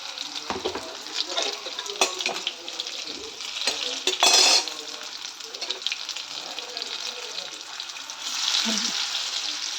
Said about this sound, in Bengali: বেসনে দিয়ে ডুবো তেলে ভেজে নেব